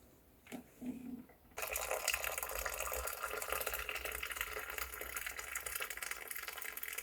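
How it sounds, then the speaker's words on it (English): Hot water pours steadily from a kettle onto turmeric and cloves in a cup for tea, a bright continuous gush that starts after a couple of soft clinks and runs on close and loud. "And then you just add some hot water."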